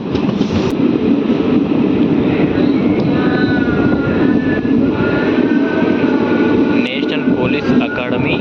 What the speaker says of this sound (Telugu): ఫలక్నుమా స్టేషన్కి మన ట్రైన్ చేరుకుంది